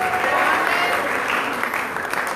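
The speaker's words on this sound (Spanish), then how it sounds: "Dale un aplauso fuerte." Strong, sustained applause from a church congregation, loud and steady at first and easing slightly toward the end.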